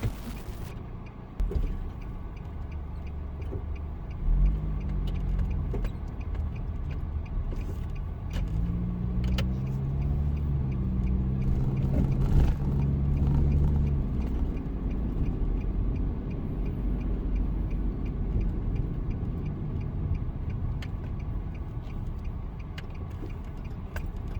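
A car drives past industrial sites in Isesaki and Ota, Japan, its engine humming steadily from inside the cabin while rising and falling tones come and go, and faint ticking runs underneath.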